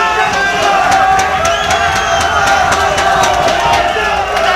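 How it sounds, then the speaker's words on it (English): A large crowd at a Battle Arena fighting event roars and cheers in a continuous loud wash, with scattered whoops and shouts rising above the din. "There's a huge crowd here. It's a very huge crowd."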